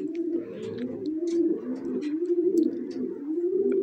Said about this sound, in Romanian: Doi porumbei.